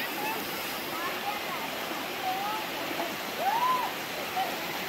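A forest stream in Bu Gia Map jungle rushes steadily in the background, a constant broad wash of flowing water, with people talking over it.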